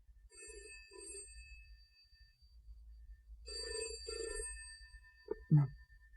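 An old-fashioned telephone bell rings in two short double bursts with a pause between, followed by a brief knock or clatter at the end, indoors and otherwise quiet with no talk.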